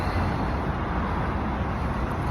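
A bus pulls in at a city stop, its low engine rumble and road noise forming a steady, fairly loud wash with no clear breaks.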